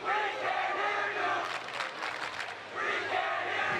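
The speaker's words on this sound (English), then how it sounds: "Crowd going nuts." A packed arena crowd at the Fargo junior men's freestyle wrestling finals erupts in loud, wild cheering and yelling, swelling in bursts and staying intense from start to finish.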